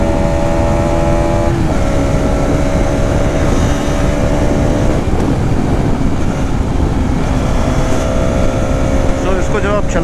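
A 2026 Hero Xtreme 250R motorcycle engine drones loud and close as it pulls hard on a road ride, with the pitch stepping between gears. The engine note stays steady under the wind rush.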